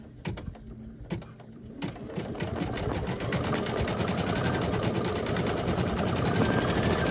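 An embroidery machine stitches a small doll's mouth, a fast, even needle chatter that starts with a few separate clicks and settles into a continuous close mechanical rattle.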